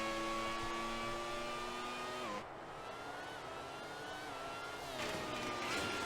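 A Grand Prix 3 video game race car enters the pits, its high engine tone steady, then dropping sharply as it slows, idling lower before revving back up, with no talk over it.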